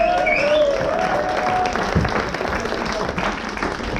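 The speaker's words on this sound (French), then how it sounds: "Allez, on applaudit Stéphano s'il vous plaît." Audience applause at a live comedy show fills the room steadily and loudly from start to finish, with a voice briefly rising over it near the beginning.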